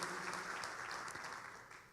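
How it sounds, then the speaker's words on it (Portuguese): Congregation applause at a church service, a dense, steady wash of many hands clapping from start to end, fading slightly toward the close. "Dê um aplauso a Ele, aleluia, glória a Deus."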